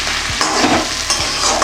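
Shredded cabbage sautéed and stirred in a pan, close rhythmic scraping strokes about every half second over a bright frying hiss.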